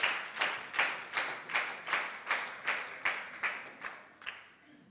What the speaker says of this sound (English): Keep that clap on.